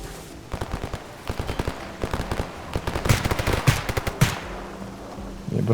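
Rapid bursts of video game gunfire in S.T.A.L.K.E.R. Anomaly crackle in quick volleys, some single shots and some automatic strings, loud and close with a steady background hum.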